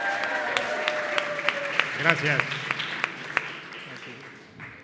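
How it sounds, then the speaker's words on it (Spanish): An audience at a student literary reading event in Neza claps in a steady run of distinct, moderately near claps, while someone speaks and says a word of thanks over the applause. "Un aplauso."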